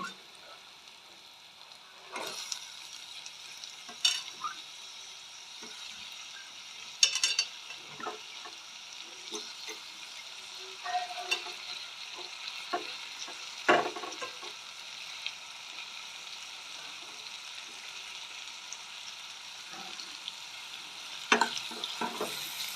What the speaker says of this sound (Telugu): ఇప్పుడు టమాటాలు వేయాలి